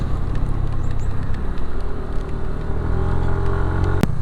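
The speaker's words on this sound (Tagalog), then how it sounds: "Umuulan na guys." Rain falling outdoors at a Pacific-facing view deck in Dingalan, Aurora, a steady broadband wash of patter with a low rumbling background, continuous and fairly loud throughout, no talking.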